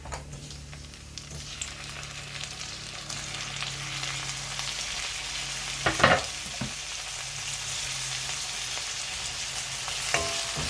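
Tomatoes sautéing in a pan for tomato buttermilk curry, a steady close sizzle and fry with a few sharp clinks of stirring, no talking.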